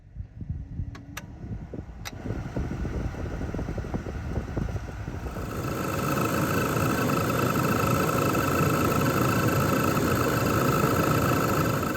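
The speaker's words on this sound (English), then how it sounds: "we've got a good little noise coming from the blower motor" A Chevy S10 truck's faulty blower motor drones steadily, then grows louder after several seconds into a constant rattly whir with a thin high whine.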